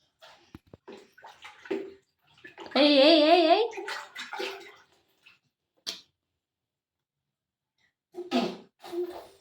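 Water poured over a child's head at bath time makes a short splashing burst up close, with a child and an adult talking in short snatches before and after.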